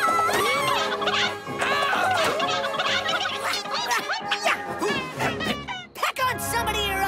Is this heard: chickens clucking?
yes